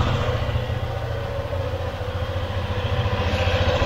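A motorcycle engine idles steadily with a rough, even mechanical drone and no other sounds, running just before a 6,000 km oil change, with noise from the side transmission housing.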